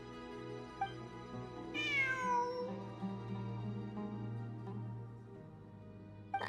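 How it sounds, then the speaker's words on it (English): A cat in the video game Genshin Impact gives a single clear, rising meow over a steady low background hum, followed by softer faint sounds. No one speaks. "It really is a cat."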